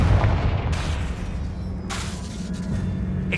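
A Confringo fire spell bursting in a Hogwarts Legacy catacomb, heard as a deep rumbling boom that decays into a roar, with a second burst of crackle about two seconds in.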